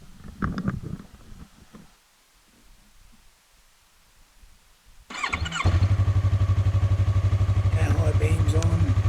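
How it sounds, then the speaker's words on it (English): A Yamaha R3 twin-cylinder motorcycle engine cranks and catches after a few quiet seconds of handling, then settles into a loud, steady idle that carries on to the end. "Go on until you start the bike"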